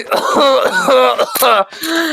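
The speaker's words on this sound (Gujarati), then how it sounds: "जोर खांसी आवी रही है" A person coughs and clears their throat repeatedly in strained, voiced bursts, close and fairly loud, with brief pauses between.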